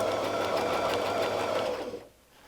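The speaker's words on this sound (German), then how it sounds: "Und wir nähen die Kreise wieder zurück." A sewing machine quilting circles runs in a fast, steady whir up close, then stops abruptly near the end.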